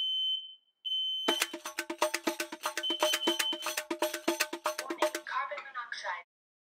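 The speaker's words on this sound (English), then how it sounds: "Hit the button in the middle of the faceplate and your detector should beep" A smoke alarm, triggered by pressing its test button, sounds a short test chirp and then a rapid, loud run of harsh repeating beeps, close by, that stop abruptly.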